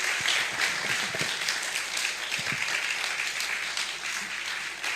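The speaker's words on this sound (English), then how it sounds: "please, let's put in much effort to clap for Temi." Sustained applause from an audience, many hands clapping steadily throughout with no pauses.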